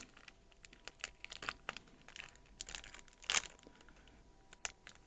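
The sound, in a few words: opening photo paper pack for Liene Pearl N200 Pro printer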